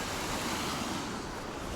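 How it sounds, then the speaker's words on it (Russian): Ocean waves washing onto an empty beach, a dense, steady roar of surf that fills the whole short stretch evenly, with no voices over it. "Океана и никого на пляже"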